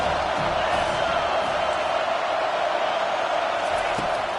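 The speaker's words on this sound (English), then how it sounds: "this crowd trying to help keep them there" Big football stadium crowd roaring in a steady, dense wash of cheering and noise, loud and unbroken, with no clear voice standing out.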